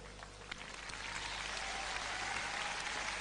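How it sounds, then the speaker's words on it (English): Audience applause at the Femina Miss India 2001 beauty pageant, a dense, continuous patter of clapping heard from a distance, fairly faint and steady throughout, with no voices standing out. "I can hear everyone in the first 3 rows clapping."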